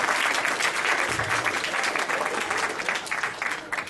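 Sustained applause from a convention audience at a furry con closing ceremony, dense and steady clapping filling the room for the full stretch, tapering slightly near the end.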